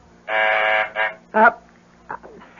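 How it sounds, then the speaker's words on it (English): A harsh electric intercom phone buzzer from downstairs sounds twice, one long and one short, followed by a brief bright tone and faint noises in a quiet room, in a radio drama. "That's the phone buzzer from downstairs,"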